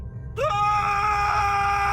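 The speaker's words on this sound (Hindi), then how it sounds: "एक जोरदार कान फाड़ू चीख गूंजी।" Loud, piercing scream used as a horror-story sound effect, rising abruptly out of near silence into a sustained, harsh, ear-splitting wail.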